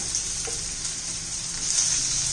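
Tomatoes sautéing in a pan with softened onion for veg Schezwan fried rice, giving a steady, close hiss of sizzling oil that swells slightly toward the end, with no talking.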